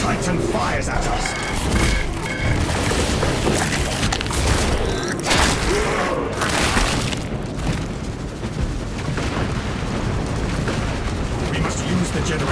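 In Warhammer 40k: Space Marine 2, a Titan's cannon fires in heavy, rumbling booms and blasts, loud and close, amid constant battle noise, with a voice speaking over the barrage.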